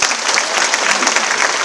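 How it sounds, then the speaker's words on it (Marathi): Audience at a women's gathering clapping, a brief burst of dense, steady applause, loud and close. "जरा टाळ्या वाजवा."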